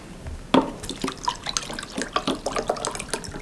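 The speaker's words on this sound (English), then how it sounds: "Martha, can I have a glass of water?" Water splashes and trickles into a glass in a run of irregular small drips and splashes, close and fairly quiet, with no talking.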